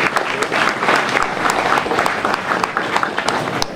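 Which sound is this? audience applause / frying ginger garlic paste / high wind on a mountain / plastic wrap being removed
audience applause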